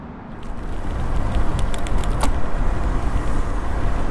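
Steady road traffic roar rushes past on a two-lane urban road near Route 2 in early morning, heard from a bicycle with a continuous loud wash of engine and tyre noise and wind.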